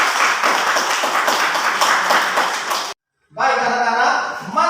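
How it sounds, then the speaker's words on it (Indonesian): Children in a classroom clap together for about three seconds, a dense patter of hand claps close by, followed after a brief pause by a teacher speaking. "tepuk tangan untuk kita semua."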